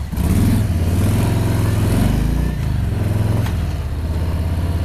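2018 Harley-Davidson Street Bob 107 motorcycle pulling away from a stop, its V-twin loud and close, revving up through a gear change with a brief dip in the middle before pulling on.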